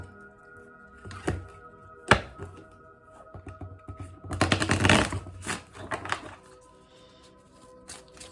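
Manifest Soulmate Oracle cards are handled and shuffled, giving soft papery riffles and taps, a sharp thunk near the start, then a dense burst of card shuffling in the middle, close by with no talking.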